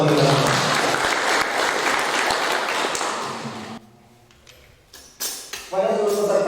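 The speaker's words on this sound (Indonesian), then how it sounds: "Aplaus buat kita." Conference audience at a national working meeting applauding, a loud dense burst of clapping that fades after a few seconds, followed by scattered taps and a voice speaking.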